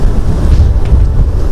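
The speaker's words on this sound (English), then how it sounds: "it's really, really strong wind" Strong wind buffets the microphone in a constant, heavy low roar that barely lets up across the short stretch.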